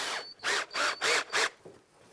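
A cordless power screwdriver or drill runs in four short whirring bursts of similar length, close and moderately loud, with brief pauses between them and a faint trailing tap in a kitchen setting.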